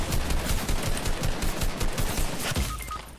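Rapid bursts of Fortnite gunfire crackle continuously, loud and close, with a quieter electronic tone near the end.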